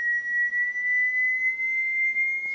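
A sine sweep test tone plays through a Teledyne-Acoustic Research AR11 speaker, a steady clean pure tone held at one pitch, then rising slightly at the very end, with a faint noise floor and no voices.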